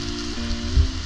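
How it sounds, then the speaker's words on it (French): Rain and strong wind outdoors make a steady, dense hiss and rush, loud and close, with a low rumble of gusts underneath and no voices. "Il pleut, il y a vraiment beaucoup de vent"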